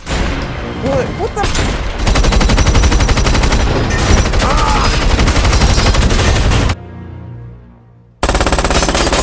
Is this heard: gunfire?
yes